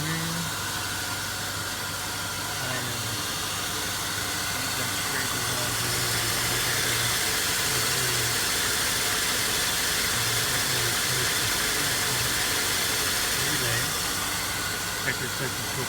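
A 2002 Chevrolet Silverado engine runs steadily after a fuel line repair, a loud, continuous idle with hissy broadband noise that fills the whole stretch.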